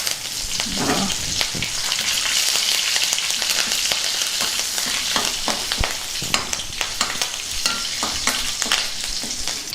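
Dried red chillies and curry leaves crackle in hot tempering oil for an amla pickle, with the stove just switched off. A loud, dense, continuous sputtering sizzle runs throughout, with scattered pops and a few stirring knocks.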